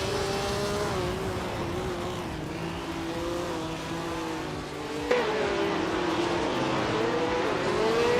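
Vintage 1967 Ferrari 312 race cars in a racing video game at Valencia Street Circuit, engines droning and shifting pitch steadily, with a sharp gear change or rev rise midway and continuous engine noise throughout.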